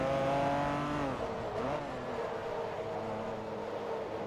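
Lamborghini Diablo engine in the racing game Forza Motorsport 2, a steady, loud, close engine drone with harmonic tones that rise and then dip slightly through a gear change, with no talk.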